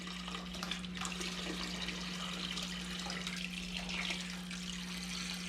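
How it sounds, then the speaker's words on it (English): Copper solution siphoned from a stock pot into a waste treatment bucket, a faint continuous trickle and splash of liquid over a steady low electrical hum. "transfer the copper solution out of our stock pot down here into our waste"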